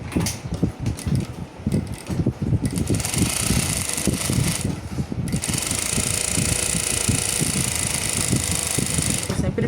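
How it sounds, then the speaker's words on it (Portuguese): A domestic sewing machine stitches a fabric toiletry bag, its motor whirring steadily with a rapid mechanical clatter, loud and close, starting in short runs and then running continuously. "Tô sempre costurando em cima da linha."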